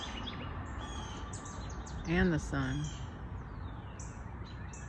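Wild birds chirp and sing in the sunny morning air outdoors, thin bright calls repeating faintly in the background while someone briefly speaks over them.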